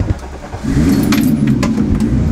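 Keys jingle briefly, then the engine of a turbocharged Volkswagen Golf Mk1 R32 turns over and starts, running steadily and close by.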